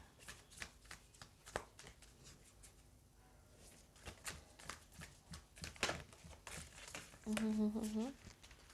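Tarot cards are shuffled close by in soft, quick riffling bursts and light flicks, with a voice speaking quietly in between.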